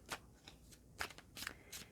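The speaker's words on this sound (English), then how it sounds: "we're going to start shuffling your cards and see what comes out for you this week" A deck of tarot cards being shuffled close by in quiet, a few soft riffling bursts and taps spaced irregularly, with no talk.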